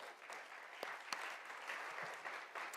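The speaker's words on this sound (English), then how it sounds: "one more round of applause because he deserves it." Faint, distant applause from the audience at a national leadership luncheon, a continuous patter of many hands clapping with a few sharper claps standing out.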